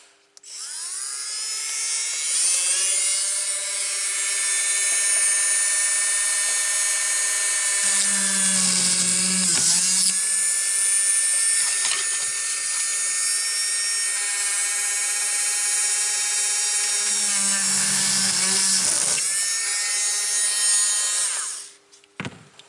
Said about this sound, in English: just drilled 2 holes